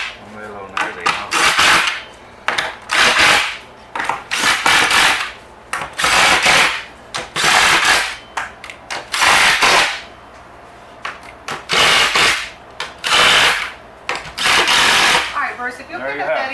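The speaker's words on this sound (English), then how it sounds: "he usually takes a wrench and tightens everything" Wrench tightening nuts on the screws of a layered Christmas yard art tree, heard as repeated loud bursts of ratcheting and scraping in an irregular rhythm, close by.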